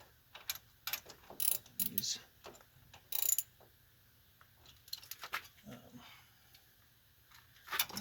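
A ratchet wrench tightens hub bolts during a hub replacement on a 2000-2006 Chevy Suburban, giving short irregular bursts of clicking separated by pauses, fairly close, with some faint background noise between strokes.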